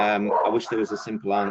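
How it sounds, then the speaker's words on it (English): Dogs bark and yip in the background of an indoor room while a person keeps talking over them, the barks short, sharp and close, breaking in between words. "apologies if you can hear my dogs in the background"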